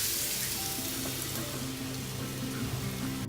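Bitter gourd frying in a pan, a loud, dense, continuous sizzle and crackle close up with a faint tonal hum beneath, no voices.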